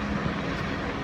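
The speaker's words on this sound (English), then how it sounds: "now this helicopter's here. I don't think that helicopter's for me." A helicopter flies overhead near rocky ground, its engine and rotor making a steady broadband drone that holds an even loudness throughout, with no voices.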